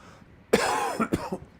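A single harsh cough, close and loud, followed by a couple of short throat-clearing bursts.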